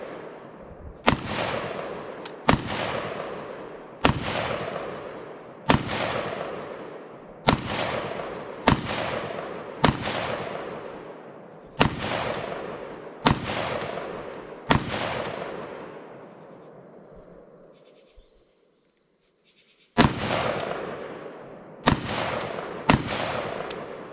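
A PSAK-47 GF5 rifle is fired outdoors in sharp, loud single shots at an irregular pace, about fourteen in all, each followed by a short echoing decay, with one longer pause near the end.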